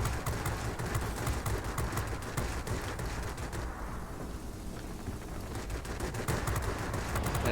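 Guns of an I-210 warplane in World of Warplanes hammer out a steady, rapid stream of shots over a constant engine roar, continuous and fairly even in loudness throughout.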